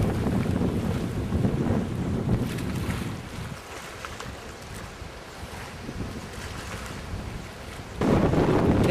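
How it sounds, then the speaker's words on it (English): Strong gusty wind from a supercell storm near Dunedoo roars against the microphone in a loud, steady rush that eases for a few seconds and then surges again. "getting some gusty winds now"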